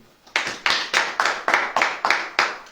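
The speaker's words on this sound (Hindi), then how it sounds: "ताली बजा पहले।" A church congregation at a Hindi sermon claps in unison, with about eight sharp, evenly spaced claps in a steady rhythm after a brief quiet start.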